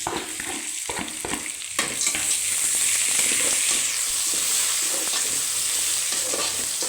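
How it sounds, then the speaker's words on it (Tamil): Crushed garlic, curry leaves and dried chillies frying in hot oil give a steady, loud sizzle that swells after a few stirring scrapes at the start, with no voices. "இப்போ கொஞ்சம் கருவேப்பிலை காஞ்ச மிளகா தட்டி போட்ட பூண்டு"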